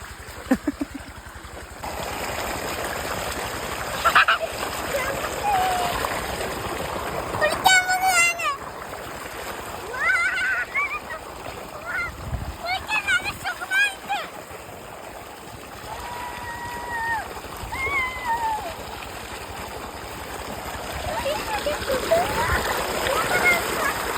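Appu, bathing in flowing water, splashes in irregular bursts over a running stream, while people talk and call out intermittently through the scene.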